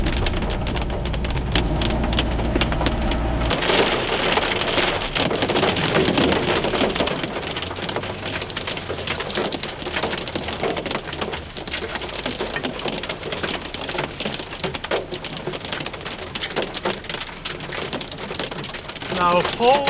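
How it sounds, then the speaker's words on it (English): Heavy hail hammers a car's roof and windshield during a huge Arctic storm, a loud, dense, unbroken drumming that continues steadily throughout. "That's like a huge hailstorm"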